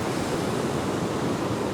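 Wind and surf on a Baltic Sea beach on a cool, gusty day, a close, continuous roar of waves mixed with buffeting wind noise on the microphone, with no talking.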